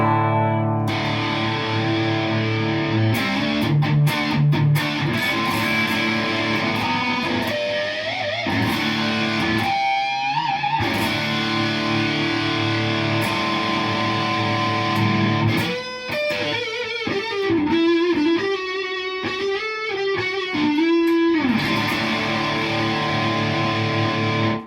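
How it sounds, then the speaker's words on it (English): An electric guitar played through an Andy Timmons distortion pedal, with thick sustained chords and driven lead lines, bends and quick runs, loud and close throughout. "Andy Timmons pedal is my main distortion"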